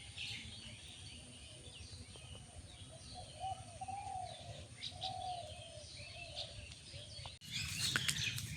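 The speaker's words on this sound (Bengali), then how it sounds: "আর পাখি দেখেন কীভাবে কিচিরমিচির শুরু করছে।" Birds twittering and pigeons softly cooing in a flowering krishnachura tree in a village, a gentle, continuous outdoor chorus at moderate distance, with a brief louder rustle near the end.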